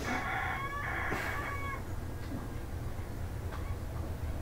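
A chicken crows and clucks in the first two seconds, then fainter fowl sounds sit over a steady low rumbling background.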